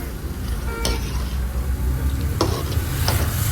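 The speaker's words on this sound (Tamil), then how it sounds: "போட்டி ஆட் பண்ணி நல்லா மிக்ஸ் பண்ணி கொடுத்துடலாம்." Goat intestine pepper masala stirred in a pan, a soft continuous sizzle with a few sharp scraping stirs of the spoon, close and moderately loud with no talk.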